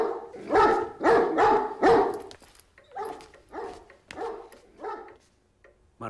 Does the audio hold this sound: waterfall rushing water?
no